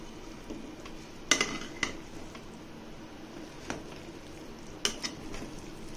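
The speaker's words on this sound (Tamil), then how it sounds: "இப்ப லைட்டா கிண்டி விடலாம் அப்படியே" Cooked coriander rice being stirred in a pressure cooker, with soft scraping and a few sharp clinks of a spoon against the metal pot over a quiet background.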